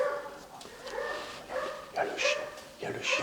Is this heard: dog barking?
yes